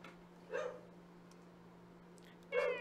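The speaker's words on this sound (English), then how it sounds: "My dog's going crazy out there." A dog barks outside, two faint, distant single barks about two seconds apart over a low steady hum.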